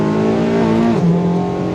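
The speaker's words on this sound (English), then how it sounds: "flat foot shifting" A loud, close Mazda MX-5 (NC) engine revs steadily, with a brief dip and rise in pitch near the middle as a gear changes without the throttle lifting.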